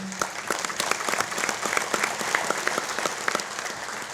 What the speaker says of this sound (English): please give them a round of applause for all they do for us